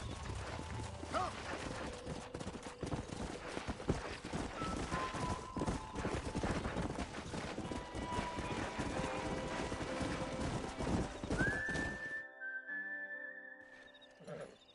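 Horses' hooves clip-clopping in the video game Red Dead Redemption, a rapid continuous galloping rhythm with occasional whistles, ending abruptly before a brief tonal sound.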